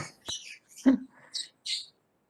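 A pet bird chirps indoors in several short, bright bursts close by, with brief gaps between calls and no talk over it.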